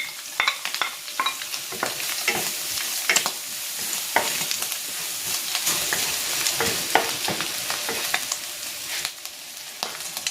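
Garlic sizzles in hot oil in a wok while being sautéed for pancit bato guisado, a steady frying hiss broken by frequent scraping stirs of a utensil, close and fairly loud with no voices.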